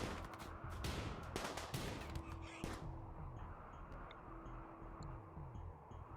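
Colonists fire at raiders in the colony game RimWorld: a handful of faint, sharp shots crack in quick succession at first, then the scene settles into a quieter background hum.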